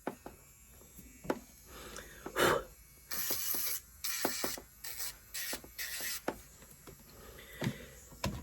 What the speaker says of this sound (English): So I just file gently in there.